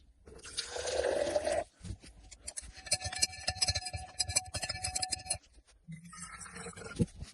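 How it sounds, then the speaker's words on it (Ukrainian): Hot water is poured over a silver chloride precipitate to rinse it: a close, splashing pour first, then gurgling, trickling liquid with clinks of glassware, ending in quieter drips. "Обов'язково промиваємо його гарячою водою."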